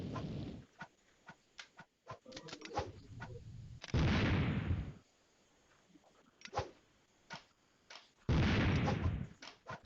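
Grenade blasts from the Mini Militia game ring out as several loud, booming bursts of noise, with sharp gunfire-like cracks scattered between them and no speech over them.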